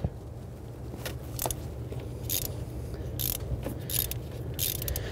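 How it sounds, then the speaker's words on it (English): A ratchet fitted with a 5/8 spark plug socket and short extension works a spark plug out of a 6.2L V8 in a 2007-2014 Cadillac Escalade, giving several bursts of close, crisp clicking over a low hum. "We're using a 5/8 spark plug socket"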